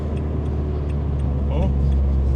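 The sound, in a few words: Renault Clio 182 engine cutting out power on track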